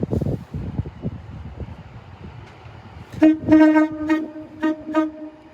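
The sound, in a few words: Avanti Pendolino class 390 train horn tones at London Euston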